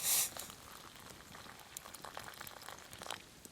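Hot water pours into a shepherd's meat pie meal bag outdoors, opening with a sharp hiss and then a soft, continuous bubbling trickle, quiet and close, with a few brief splashy surges toward the end.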